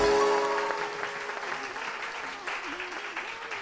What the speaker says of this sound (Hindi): बहुत सारी तालियां रानी आपा के लिए वंस अगेन।